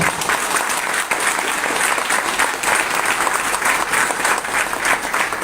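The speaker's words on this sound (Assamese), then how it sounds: "আপোনালোকে নিজৰ কাৰণে বিগ ক্লেপিং দিয়ক" An audience at a direct-selling business meeting claps loudly and steadily for several seconds, a dense, even wash of applause with no voices.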